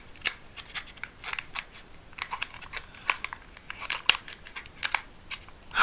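A Pokémon trading card booster pack from the Scarlet and Violet series is opened by hand, with a string of sharp crinkling and tearing foil sounds in quick, irregular bursts, close and fairly quiet, with no voices.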